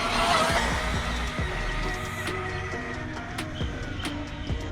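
A Traxxas Slash 4x4 Ultimate RC truck with a low-center-of-gravity chassis runs at full throttle on a stock speed run, its electric motor whining steadily with sharp tire scrubs and clatter throughout.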